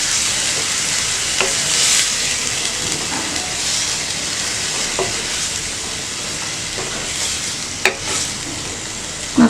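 Masala for mutton liver curry sizzles in a hot pan while a spoon stirs it, a steady loud frying hiss broken by occasional scraping clicks, with no talking.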